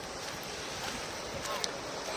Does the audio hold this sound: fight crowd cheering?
no